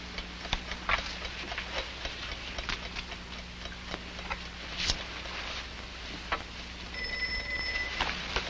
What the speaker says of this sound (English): Dopey, I'm expecting a phone call.